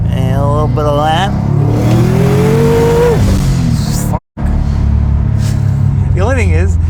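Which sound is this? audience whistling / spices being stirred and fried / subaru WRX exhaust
subaru WRX exhaust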